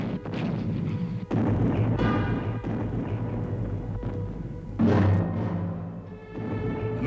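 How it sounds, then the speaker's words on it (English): A World War I British artillery bombardment at the Battle of Arras rumbles as a dense, continuous roar with heavy low booms, one sharp blast standing out near the middle amid the sustained barrage. "Already the British bombardment at Arras had begun."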